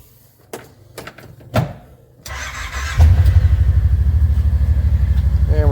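A Kawasaki Teryx side-by-side is started after a few clicks and clunks. The engine cranks, then catches and settles into a loud, steady, throbbing idle close by.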